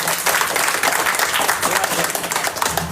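A seated audience at a talk or seminar breaks into dense, continuous hand clapping, loud and close, with a faint voice beneath.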